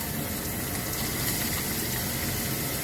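Water is poured into a cooking pot of mung beans with spinach, a steady, even gushing splash that runs continuously at close range with no voices over it.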